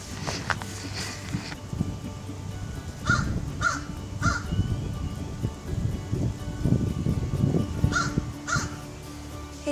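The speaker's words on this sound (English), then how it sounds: "I really like crows." Crows caw repeatedly in a rainy garden on a farm, harsh calls coming in bursts of two or three at moderate distance over a soft background patter.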